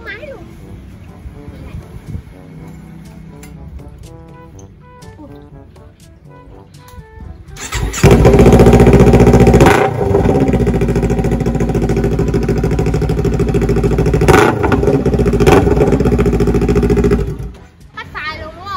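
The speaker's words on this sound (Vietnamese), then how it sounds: "bây giờ mình sẽ cho các bạn nghe thử cây bô AK đu đủ lông dài nha, đảm bảo là nghe như bốn máy luôn" A motorcycle fitted with a long papaya-style AK exhaust idles under someone talking, then revs hard into a loud, sustained roar for about ten seconds before dropping back toward idle.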